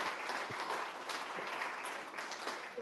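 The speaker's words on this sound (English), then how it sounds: "Can we give Olivia another round of applause for giving up her time this evening?" Steady applause from an evening audience at an avalanche snowpack talk in Fernie, dense continuous clapping held at an even level throughout.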